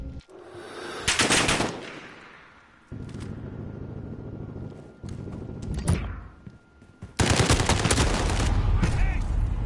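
Automatic gunfire from a first-person shooter video game rips out in loud rapid bursts, a short one near the start and a longer sustained volley at the end, with quieter game noise between.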